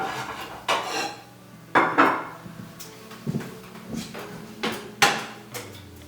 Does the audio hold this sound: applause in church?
no